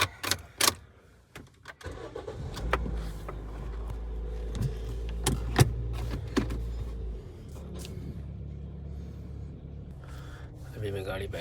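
A car is started and readied to pull out: knocks and key jangles lead into an engine cranking and catching, then a steady low idle hums under occasional clicks, with a voice speaking over parts of it.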